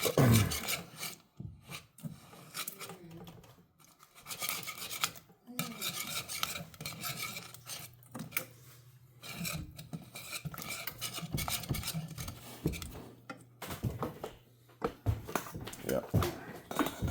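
Caramel is whisked gently in a pan as it bubbles, giving a steady scraping, rasping stir with metallic clinks and a low simmering hum underneath, close and continuous with brief pauses.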